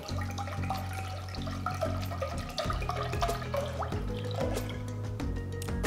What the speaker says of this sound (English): Take a nice pot, add enough water for blanching.